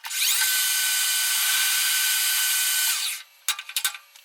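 A lathe drill whines at a high, steady pitch for about three seconds while drilling a hole, then stops, followed by a few sharp metallic clicks and knocks.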